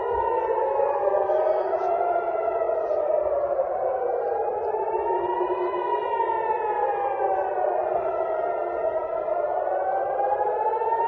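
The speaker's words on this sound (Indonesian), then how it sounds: "para warga terbangun tengah malam karena sirine peringatan berbunyi" A civil defense warning siren wails at midnight in Israel, rising and falling steadily in slow sweeps, continuous and moderately loud with a distant, echoing quality, and no voices.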